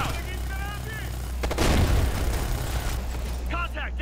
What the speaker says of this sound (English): the machine gun's focusing on me now